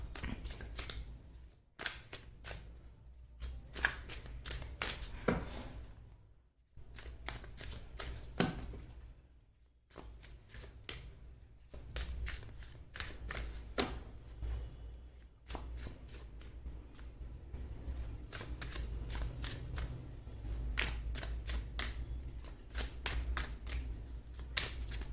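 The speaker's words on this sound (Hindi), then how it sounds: "मैं कार्ड्स आपके सामने ही शफल करूंगी" Tarot cards being shuffled by hand, repeated riffling bursts with short gaps, close and fairly soft, heard alone without any talk.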